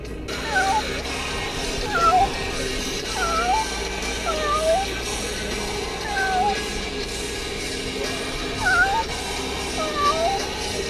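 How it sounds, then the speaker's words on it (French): Several high, thin mewing cries of kittens repeat irregularly over a steady low engine rumble, calling from close by in the back of a moving car. "j'ai un camp de petits chats, de petits chatons que j'héberge dans l'arrière de la voiture"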